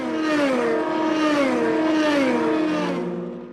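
Endurance race cars in European Le Mans Series racing at Silverstone scream past with rising and falling engine notes, a loud sustained Doppler sweep as they close in and fade away.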